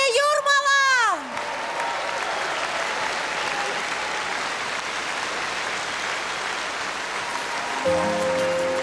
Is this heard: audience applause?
yes